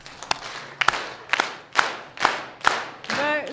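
A crowd at a cultural night showcase claps in unison as part of a dance, six sharp, evenly spaced claps about half a second apart, with a voice briefly rising at the end.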